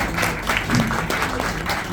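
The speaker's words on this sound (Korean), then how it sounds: "큰 박수 한번 감사합니다." Audience applause at a book launch and talk show event, a brief burst of crowd clapping lasting about two seconds, even and moderately loud.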